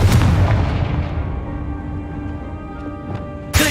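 Confringo fire spell blasting in Hogwarts Legacy: a loud booming burst that rolls into a long decaying rumble, with a sharp crack at the very end.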